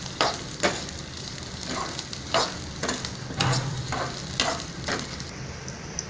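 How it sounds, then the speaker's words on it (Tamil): Onions and dried red chillies fry and are stirred in a pan, giving a steady low sizzle broken by repeated scraping strokes of a spoon at a slow, even rhythm, close and moderately loud, with no talking. "இதையும் கொஞ்சம் நேரம் அப்படியே வணக்கி விடுங்க."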